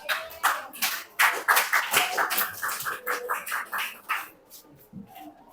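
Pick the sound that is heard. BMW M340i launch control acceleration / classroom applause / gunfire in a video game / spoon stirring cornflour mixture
classroom applause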